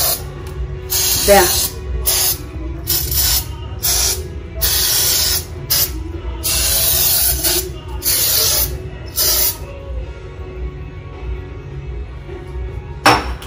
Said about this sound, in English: Then I'm going to spray on it.